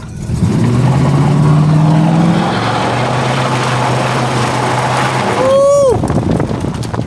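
A 1971 Oldsmobile Cutlass Supreme engine revs hard on Arizona dirt, a loud steady roar with a rising whine early and a sharp squealing sweep near the end, under excited talk.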